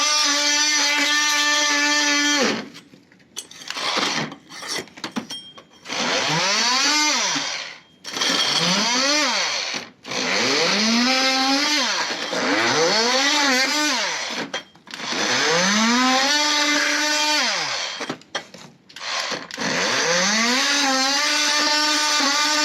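A power tool whines loudly while stripping glued-on residue off a floor during removal of water-damaged particle board, its pitch sweeping up and down in repeated bursts separated by short pauses.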